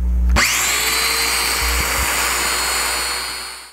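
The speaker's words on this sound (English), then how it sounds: "So now I'll go ahead and cut these dominoes," A domino joiner is switched on and whines steadily at full speed while it cuts mortises in the wooden parts of a bed frame. The loud, close motor drone runs alone and begins to wind down at the end.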